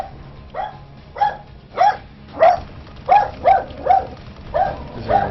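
A pet dog barks and whimpers in a run of about nine short, yelping bursts at a steady rhythm, fairly close and clear, with no talk over it.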